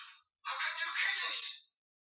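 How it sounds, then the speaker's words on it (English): A mobile phone rings indoors: a brief burst of electronic tone ends, then after a short gap a longer, bright, buzzing ring plays for about a second before stopping, with no one speaking. "My phone's going off, sorry."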